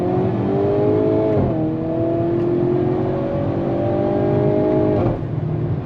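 Hyundai Kona N accelerating in N Grin Shift mode, a loud steady engine drone rising in pitch through the gears with two quick shift breaks, heard from inside the car with no talking.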